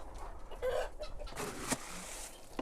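Soft, brief clucks from a small white rooster, a few scattered calls close by in a quiet winter setting.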